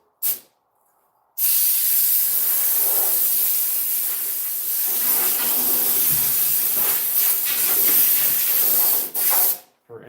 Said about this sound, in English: I don't like to use compressed air on metal shavings unless I need to get out of groove.